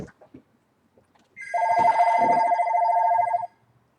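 An incoming call sets a telephone ringing in one long, steady electronic ring of about two seconds, fairly faint and alone, with a few soft noises before it.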